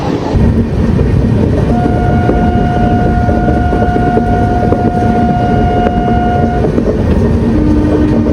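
Howrah–Pune Duronto Express running at speed, a loud, steady rumble of wheels and carriage with a sustained whistle-like tone through the middle, continuous and close throughout with no talk.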